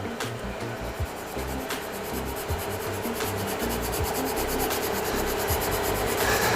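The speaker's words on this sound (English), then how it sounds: "sand up, go through the grits" A wooden handle sanded through successive grits, with continuous close rasping strokes in an even back-and-forth rhythm, loud and alone without any voices.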